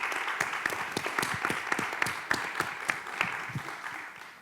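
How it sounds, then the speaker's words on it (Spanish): An audience applauds a guest, Armando Casas, director general of Canal 22, at a talk on superheroes in comics: many hands clapping in a hall, with individual claps standing out, steady then gradually thinning, and no one speaking. "Un gran aplauso para él, por favor."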